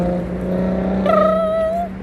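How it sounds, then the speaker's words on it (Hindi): A car drives past near a busy park, its engine swelling briefly in the middle before easing off, over a steady background hum. "गाड़ी चल रही थी"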